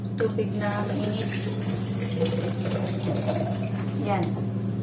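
Hot water runs from a tap in a steady, soft splashing stream beneath a low hum, while a person talks over it.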